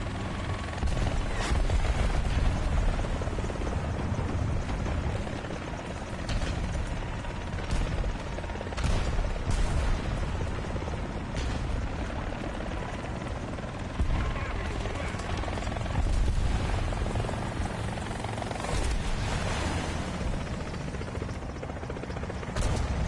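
Helicopter rotor and engine drone from the War Thunder video game, a steady dense mechanical whir that holds for the whole stretch with faint ratcheting clicks, loud and close.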